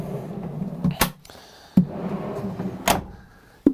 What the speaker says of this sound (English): 3 full depth drawers that fully come out on here,